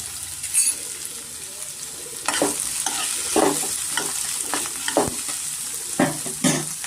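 Sliced onions and two green chilies fry in oil in a pan, with soft sizzling and repeated scraping stirs of a spoon, the strokes close and intermittent.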